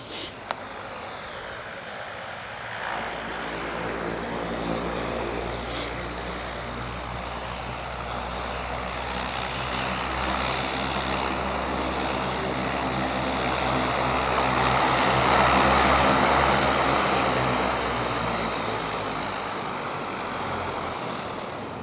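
A float plane's propeller engine roars through its takeoff run on the water at Brooks Camp in Katmai National Park, Alaska, a steady, loud drone that swells toward the middle and then eases off.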